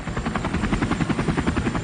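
Helicopter in flight with whirling rotor blades, a steady loud throbbing beat of the rotors over a dense engine drone, continuous and close throughout.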